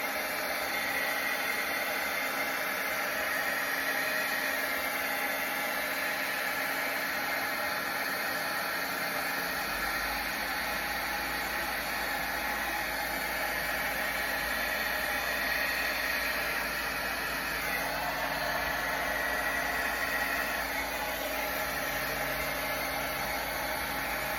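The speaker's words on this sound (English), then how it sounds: "I'm taking off my gloves before I use the heat gun" A paint-caked heat gun runs as a steady, loud blowing hiss with a constant motor whine, continuous and close for the whole stretch with no talk over it.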